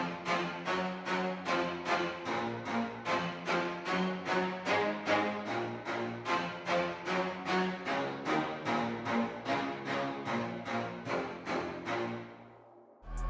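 Low spiccato strings from a Contact sample library, Strings of Winter, play a rapid, even run of short bouncing notes at full velocity, a dark orchestral pulse repeating steadily before stopping abruptly near the end, with no voices.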